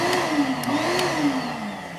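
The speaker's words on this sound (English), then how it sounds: "I'm finished vacuuming" A household vacuum cleaner runs steadily at close range with a constant mid-pitched motor drone whose whine wavers slightly. The floor being cleaned is in a room with a small table and large speakers, and nobody speaks.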